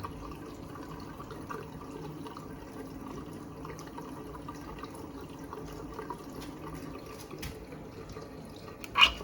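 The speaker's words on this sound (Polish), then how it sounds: "automatycznie zaczyna lecieć woda" Water runs steadily at a low trickle into a faulty Bosch dishwasher with an AquaStop error, a constant hushed flow with faint drips, ending in a short sharp clack.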